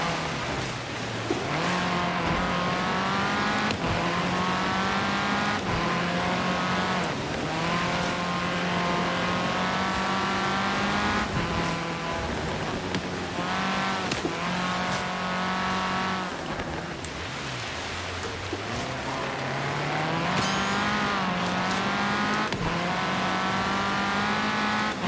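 Race car engine in Forza Horizon 3 on PC, loud and close, revving through repeated rising gear sweeps with shifts every couple of seconds, a second car audible behind and brief tire squeal.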